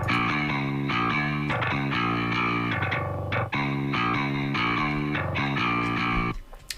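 A distorted metal bass guitar tone run through a limiter plays a chugging riff of sustained, thick notes with short breaks, loud and steady until it cuts off at the end.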